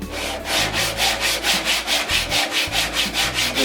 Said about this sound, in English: Now I'm taking 60 grit sandpaper and just going over the sides and bottom of it.